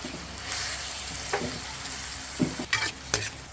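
Ground pork frying with tomatoes in a pan: a soft steady sizzle with a few sharper scrapes and clatters of stirring near the end, close and unaccompanied by speech.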